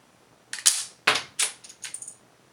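A toy rifle built from Lego bricks snaps off a quick series of sharp plastic clacks, three loud ones followed by lighter rattling clicks, close and alone.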